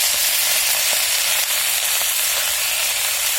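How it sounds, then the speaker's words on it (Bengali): Spinach fries in oil in a pan with a loud, continuous sizzling hiss and faint stirring scrapes, close up and steady throughout, without talk. "পালং শাকটা ভেজে নিচ্ছি"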